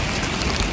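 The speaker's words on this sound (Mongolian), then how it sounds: "За ингэж амар бороо ороод." Rain falling in Spain, a brief, steady broadband hiss of drops with no voices over it.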